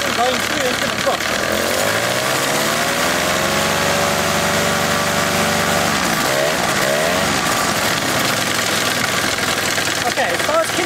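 Paramotor engine running close by, revving up and down with a steady mechanical drone whose pitch sweeps higher and lower, loud and constant throughout.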